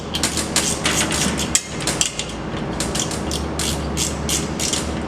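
A ratchet wrench tightens bolts on the drive belt assembly of an EZ Fold shirt-folding machine. Rapid metallic clicking repeats in steady runs, loud and close, with a couple of brief clunks and pauses between strokes.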